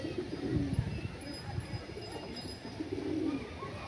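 Malwai pigeons coo softly in low repeated pulses, close by, with faint bird chatter and background noise around them and no talk.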